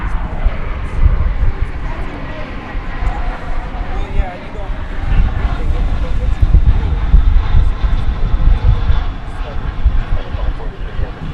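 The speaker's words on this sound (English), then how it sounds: "This, I believe, is American 2483, headed to Phoenix, the Valley of the Sun, on an Airbus A321 Neo." An American Airlines Airbus A321neo airliner on flight 2483 at Dallas Fort Worth airport gives a steady, broad engine roar that holds strongly throughout, with a faint voice underneath.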